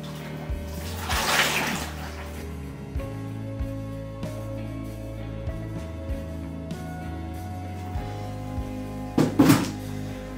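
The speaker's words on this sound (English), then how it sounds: "we're going to pour that into a pail" Leftover oxalic acid solution is poured into a 20 litre open-top pail, with a short splashing pour near the start and another near the end, and soft thunks and clatter in between.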